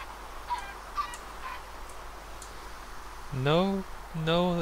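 Chickens in Minecraft give a few short clucks early on, then louder squawking, honk-like calls near the end.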